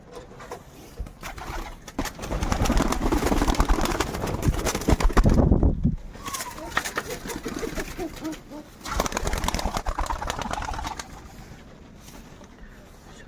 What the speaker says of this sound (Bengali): তো এইদিকে সব পায়রাগুলো বসে আছে